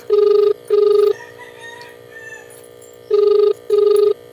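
A telephone ringback tone plays while a call is being placed: two pairs of short, bright rings, each pair followed by a quiet pause. The rings are loud and close, with no talking over them.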